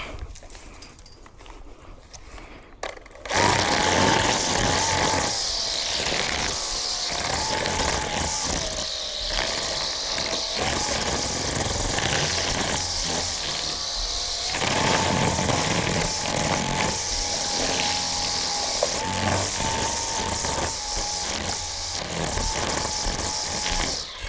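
A lawn mower roars steadily close by through a commercial mowing job, its engine drone holding near-constant and loud after a quieter opening, with slight wavering in pitch as it moves across the grass.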